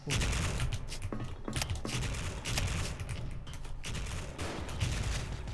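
Rapid bursts of M4 rifle gunfire ring out in the Special Force first-person shooter game, dense and continuous over several seconds, loud and close.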